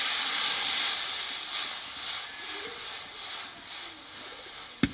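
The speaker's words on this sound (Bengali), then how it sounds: "দেখো বন্ধুরা জলটা কিন্তু ফুটতে লেগেছে।" A steady hiss of cold water heating to a boil in a wok, with soft bubbling and a brief knock at the end.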